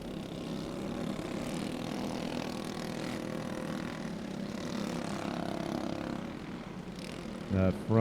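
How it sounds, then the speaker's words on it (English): Go-kart engines at a race fire up and roar together as a steady, dense mechanical drone heard from a distance, with an announcer's voice near the end. "Should hear them firing up here in just a second. The roar of all those animal engines."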